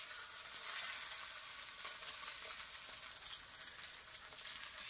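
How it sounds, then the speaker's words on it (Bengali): An egg fries in a pan in a home kitchen, giving a steady, even crackling sizzle that runs unbroken and close throughout with no voices. "বাহ, ডিমটা বেশ সুন্দর করে ভাজছে তো।"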